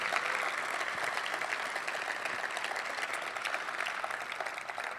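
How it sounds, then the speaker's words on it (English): Audience applause at a Sounders FC business meeting, a moderately faint, steady wash of many hands clapping from a distance, continuing evenly without talk. "So let's give Drew a big round of applause."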